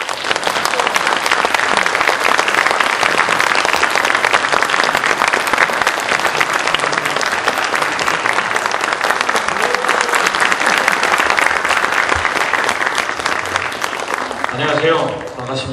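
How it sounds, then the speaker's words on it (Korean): A large audience at a company family festival featuring an operatic tenor claps loudly and steadily in a sustained wash of applause, tapering off as a voice begins right at the end. "여러분 큰 박수 부탁드립니다"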